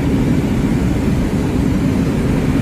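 Steady low engine drone of a small airplane heard from inside the cabin during flight, a constant dense rumble with no voices.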